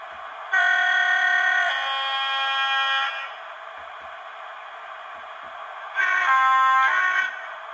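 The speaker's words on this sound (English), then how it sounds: "And there's the two prototype horn sounds." A loud locomotive horn in a train simulator game blasts in two tones, a shorter high note then a lower one, and sounds again after a pause, over a steady engine hum.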